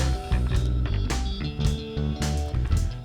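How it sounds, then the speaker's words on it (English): Squealy electric guitars run through a ButterComp compressor plugin, sustained chords with sharp high accents and a smooth, dense tone, playing continuously with no voices. "squealy guitars"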